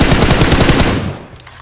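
Rapid automatic gunfire from a weapon in the mobile battle-royale game PUBG Mobile, loud sustained bursts of regular shots for about a second, then dropping to quieter distant shots and game ambience.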